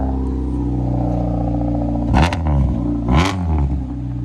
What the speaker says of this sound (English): one last start up of the straight pipe